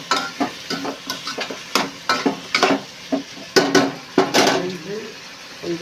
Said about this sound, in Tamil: சிக்கன் போட்டு நல்லா அந்த எண்ணெயிலேயே நல்லா கொஞ்சம் நேரம் வதக்கணும்.